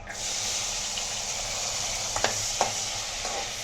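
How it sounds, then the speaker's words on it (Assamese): Fresh green peas fry in melted butter for pav bhaji, giving an even, close sizzling hiss with a couple of brief stirring clinks near the end. "এতিয়া মই মটৰখিনি ভাজি দিম"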